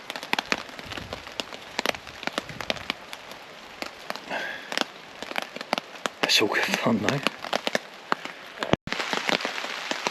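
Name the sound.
wind and rain on a camping tarp in a storm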